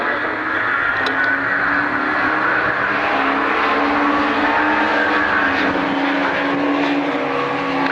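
Race cars lapping Croft circuit during a national sports car club race, engines droning loudly and continuously throughout with no gaps, the sound of several cars running close together at speed.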